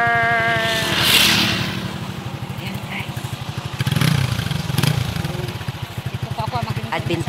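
A motorcycle engine chugs and putters nearby with a steady, rapid pulse, while a person speaks briefly over it.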